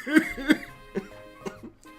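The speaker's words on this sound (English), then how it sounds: "Sorry, I still have a little bit of a cough from being sick." Someone still recovering from an illness coughs several times in quick succession, loud and close. The coughs are spaced unevenly and trail off at the end.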